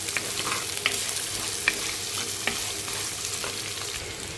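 Chopped carrots sizzle and fry in a pan for semiya upma, a soft steady hiss with occasional light stirring clicks and scrapes, fairly quiet and without talk.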